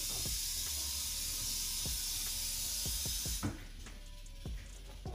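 Rattlesnake rattling its tail during handling, a continuous close, hissing buzz that holds steady and then drops slightly in level partway through, with faint clicks and knocks in the background.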